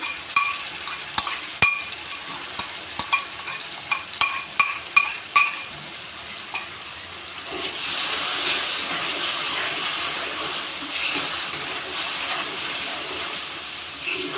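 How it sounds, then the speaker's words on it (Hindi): Homemade sauce for desi-style chicken chow mein is stirred in a hot pan, a spoon clinking sharply against the metal in irregular taps before giving way to a steady, close sizzle as the sauce cooks down. "दो से 3 मिनट के लिए सॉस को इस तरह से हिला हिला के पका लेना है।"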